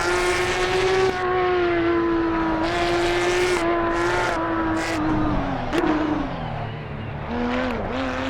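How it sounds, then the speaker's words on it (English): A Porsche race car in the racing game Assetto Corsa Evo, its engine droning and rising and falling in pitch as it revs and shifts, steady and up close with no talk over it. "The cars in this game sound really good."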